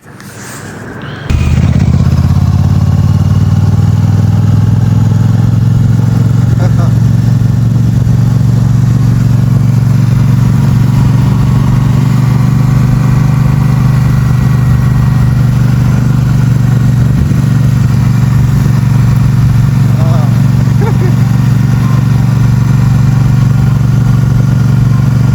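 A motorcycle engine runs while riding on mountain roads around Old Manali after floods, starting with a sudden loud onset and then a strong, steady low drone close to the microphone that lasts throughout, with no talking.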